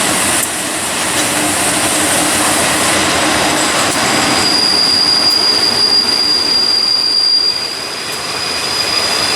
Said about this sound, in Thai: รถไฟก็ชะลอมาแล้วนะครับ ชะลอเข้าสถานีนะครับ